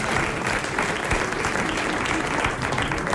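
A studio audience of a French radio comedy panel show applauds a prize winner with a full, continuous burst of clapping, steady and close from start to finish.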